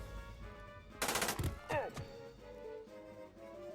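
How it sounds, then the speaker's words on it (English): Gunfire in the video game Jagged Alliance 2: a short burst of rapid shots followed by a couple of single reports and a sharp ricochet-like tone, heard alongside in-game character voices. "So Ice can take more shots here."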